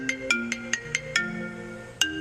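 A custom phone ringtone plays a short, bright electronic melody of plucked tones, about eight quick notes in an uneven rhythm, moderately quiet and with no talking.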